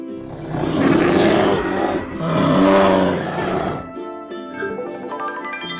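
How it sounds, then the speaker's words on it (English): A bear roars loudly and close in two long, rough growling bursts lasting about four seconds, then fades into softer tonal sound. "A bear sounds like this."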